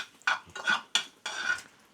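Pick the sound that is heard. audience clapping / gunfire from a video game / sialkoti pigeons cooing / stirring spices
stirring spices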